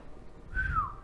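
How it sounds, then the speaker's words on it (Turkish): A single brief whistled tone rising and then gliding downward, faint and thin, like someone trying to whistle with little success, with no talk over it. "Hiç ıslık çalamıyorsunuz."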